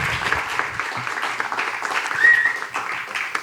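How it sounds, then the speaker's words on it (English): Audience applause at a poetry performance event, a dense wash of clapping filling the whole moment, fairly loud and steady with slight swells. "So a big round of applause for everyone who you will see."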